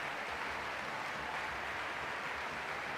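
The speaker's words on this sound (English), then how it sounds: "Let us send her off with a round of applause" A continuous wash of crowd applause and clapping in Genshin Impact, steady and fairly distant, with no talking.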